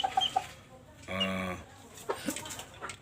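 A chicken on a small backyard flock gives a single drawn-out cluck at moderate distance, surrounded by faint scattered peeps and rustling.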